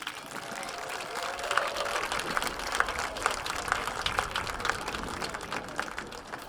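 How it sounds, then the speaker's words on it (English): Applause from parents and guardians in the stands at an evening girls' high school lacrosse game, a steady wash of clapping through the whole stretch, moderately loud and fairly distant. "So give yourselves a round of applause"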